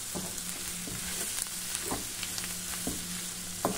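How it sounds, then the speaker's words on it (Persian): Sausages frying with onion in a pan, a steady sizzle running throughout with a few louder stirring knocks and scrapes at intervals, close by and with no talking. "سوسیس ها رو اضافه کردم با پیاز تفت بخوره"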